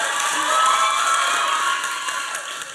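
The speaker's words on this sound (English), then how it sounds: "Yes, big applause to all of you." Crowd at an outdoor Reclaim The Streets event clapping and cheering in a steady, dense wash of applause, loudest early then easing slightly toward the end.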